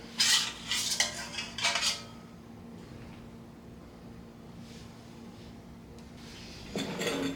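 A utensil scraping and clinking against a pot in a few quick bursts of stirring, then a quiet stretch before another short clatter near the end.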